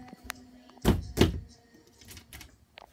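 Two heavy, dull thuds close together, like a door being shoved and held shut against a monster in the horror game Eyes, with faint scattered clicks before and after.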